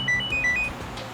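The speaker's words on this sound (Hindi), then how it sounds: "फोन की घंटी बज रही है, आप उठाओ ना फोन।" A phone's electronic ringtone sounding in a moving vehicle during a CID TV drama scene, short repeating high tones in a two-note pattern over low road rumble, fairly close and clear with no talking.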